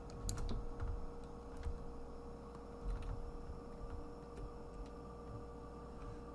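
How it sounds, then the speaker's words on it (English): Sparse mouse clicks tap out during video game play, faint and irregular over a low steady hum, with no talk. "I'm clicking all over this thing."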